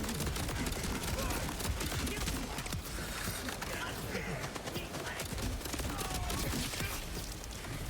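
A video game SMG fires in a steady, rapid stream, its dense rattle running without a break. A voice talks over the gunfire.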